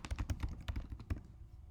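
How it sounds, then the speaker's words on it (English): Quick bursts of keystrokes and backspacing on a computer keyboard while editing an HTML template, a close, crisp run of clicks lasting about a second before trailing off. "I would be able to just sort of backspace this and start typing"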